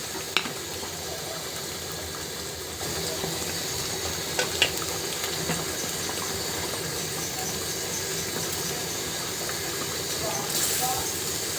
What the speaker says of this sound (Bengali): দিয়ে দিচ্ছি এর ভিতরে ভেজে রাখা আলুগুলো